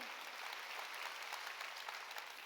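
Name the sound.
church congregation applauding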